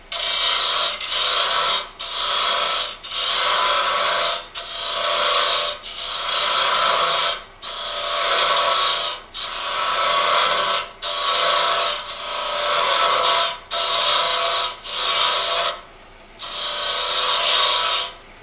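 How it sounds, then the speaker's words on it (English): A Hunter Osprey carbide tool cutting a cove into spinning wood on a lathe, a loud steady rasping scrape in repeated passes of about a second each with short pauses between, close and alone. "Next, I'll turn a cove using the Hunter Osprey tool."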